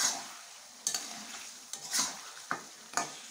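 Baghair fish being stirred in a hot pan gives a steady sizzle, broken by several sharp scrapes and knocks of the spatula against the pan, close and fairly loud.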